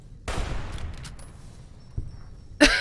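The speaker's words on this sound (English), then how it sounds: "I'm gonna shoot you and hope for the best." Gunfire in Fallout: New Vegas aimed at a golden gecko: a burst of shots followed by a single sharper crack and another loud shot near the end, close and punchy.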